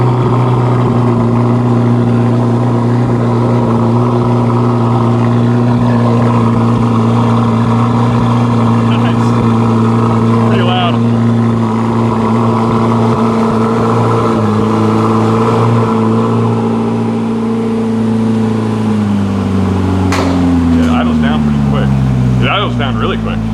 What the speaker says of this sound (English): Cold start on the ZR1.